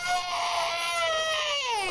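A baby cries in distress with one long, high, strained wail that slowly falls in pitch, heard close and alone.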